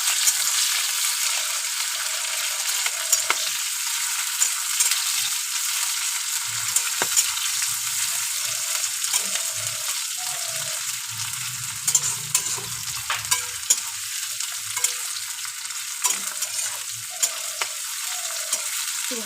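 Green chillies and crushed garlic sizzle in hot oil in a pan, a steady bright hiss throughout with light scraping and clinks as they are stirred, no voices.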